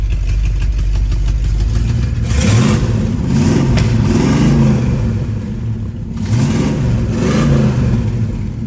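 A 1968 Ford Mustang with a 5-speed manual, its engine running loud and close, a steady idle rumble rising into a couple of revs and settling back down, no voices.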